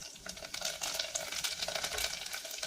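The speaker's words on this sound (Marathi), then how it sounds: "इथे गरम मसाला आता थोडीशी धनाजिरा पावडर मिक्स करून घेऊया" Garam masala, coriander-cumin powder and fresh coriander are stirred into a simmering aamti in a pan, giving a close, continuous scraping and soft sizzle with no talking.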